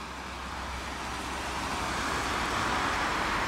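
Cars moving along a road in Alexandria, a steady wash of traffic and tire noise that grows gradually louder as vehicles approach and pass, continuous with no talking.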